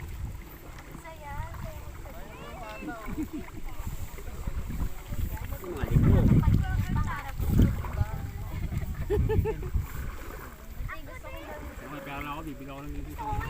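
A small boat moves across lake water at Cavinti, Laguna, with a steady rumble, splashing and wind buffeting the microphone, while people talk over it throughout.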